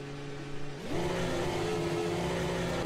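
A high-pitched V10 Gen 3 race car engine in a racing video game drones steadily, then its pitch jumps up as it revs harder and holds a loud, continuous whine.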